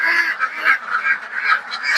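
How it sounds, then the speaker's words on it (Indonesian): Ducks in a pen waiting to be fed give a steady run of overlapping, close quacks and honking calls that continue throughout with no pauses. "dalamnya bebek yang belum saya kasih makan tadi"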